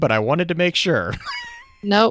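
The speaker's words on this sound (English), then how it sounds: "That's my cat." A pet cat meows around the middle of the clip, a drawn-out rising-and-falling cry heard between and under people talking during a video game session.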